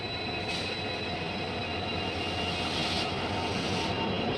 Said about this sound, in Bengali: ঢুকে গেল এখন Vasco da Gama Shalimar Amaravati express